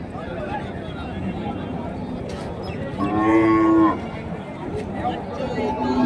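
A cow calf moos once at a busy Friday cattle market in Kundarapalli, Krishnagiri district, Tamil Nadu, a single mid-length call rising out of constant crowd chatter and market noise, with people talking throughout.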